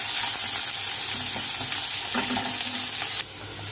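Onions fry steadily in an oil-filled pan with salt added, a continuous close sizzle with occasional stirring scrapes, no voices, ending in a sharper hiss near the end.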